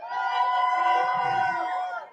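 Crowd at a Las Vegas boxing press conference for Canelo Álvarez and Edgar Berlanga cheering for Berlanga, a sustained swell of shouting and whooping voices that rises and then fades.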